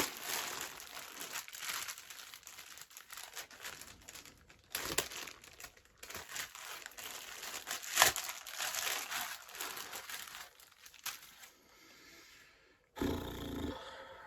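Plastic bag crinkling and rustling close by as a bag is unwrapped from inside another bag from a lost parcel, in uneven bursts with a few sharper crackles, no talking.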